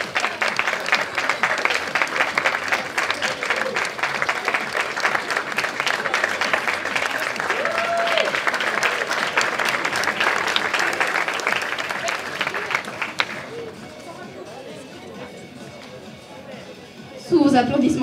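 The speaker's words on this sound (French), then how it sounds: "Sous vos applaudissements, s'il vous plaît" Applause for cosplayers at a comic festival in Delémont. A crowd claps loudly and continuously with chatter mixed in, then the clapping fades to a quieter room murmur before a brief louder burst near the end.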